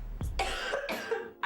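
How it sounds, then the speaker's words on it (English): A sick person coughs close by: one sharp cough, then a harsh, rasping second cough, with a brief throaty catch at the end. "We're both sick and coughing on top of one another."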